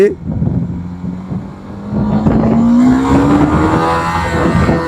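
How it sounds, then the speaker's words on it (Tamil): TVS Apache RTX300 300cc motorcycle accelerating in first gear with rain mode engaged, a steady engine note rising in pitch under loud wind rush and road noise, close up, with a voice talking over it. "ஸோ இதில் ரெயின் மோடில் ஃபஸ்ட் கியரில் எவ்வளோ போகுதுன்னு பார்ப்போம்"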